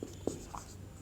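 A pen scratching on paper while a maths problem solution is written out, short soft strokes and one small tap, close and quiet, with no talking.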